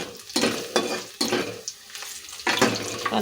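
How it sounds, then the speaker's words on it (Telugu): Cumin and crushed raw garlic frying in a pan, bursts of loud crackling sizzle that swell and ease in rough pulses, with stirring, up close. "ఇవి కొద్దిగా వేగనిద్దామండి చూడండి అయితే వేగుతున్నాయి కదా"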